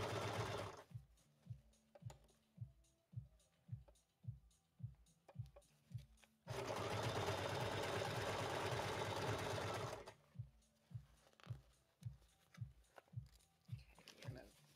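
A sewing machine stitches fabric in slow, even thumping pulses, then breaks into a loud continuous whir for a few seconds at full speed before settling back into separate rhythmic stitches.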